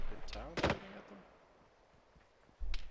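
Gunfire in the military shooter game Arma 3 at an airfield near a control tower: a sharp burst of shots early on, then a quiet stretch and another loud report at the end, with a voice briefly under the shots.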